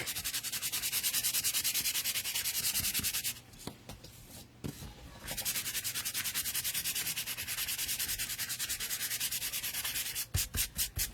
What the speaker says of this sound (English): So you're going to give your apple light sanding on the front and the back.